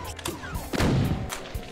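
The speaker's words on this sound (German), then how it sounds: "Der Schuss war gar nicht für dich bestimmt." A single sharp gunshot blast rings out in Doom 2, with brief game sounds around it.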